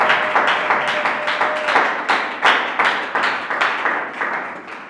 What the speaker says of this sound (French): Acclame bien pour le Seigneur.